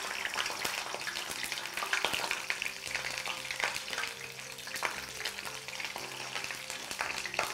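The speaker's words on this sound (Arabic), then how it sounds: "رح نحط القطع الصغيره من الزهره بدون ما نملحها بدون ولا شيء بهي الطريقه وبدنا نقليهم" Small cauliflower florets fry unsalted in hot oil, a loud, continuous crackling sizzle with sharp pops and occasional utensil clicks over the whole stretch.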